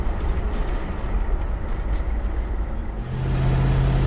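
A 1963 Ford Thunderbird convertible with a 390ci engine hums steadily while driving, with road rumble throughout; the engine note drops and settles into a lower steady drone partway through after shifting into second.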